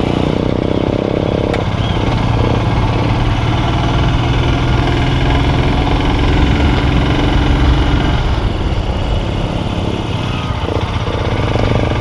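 A motorcycle engine runs steadily during a group ride in South Sikkim near Namchi, a continuous loud rumble close to the rider with wind noise and no break for the whole stretch.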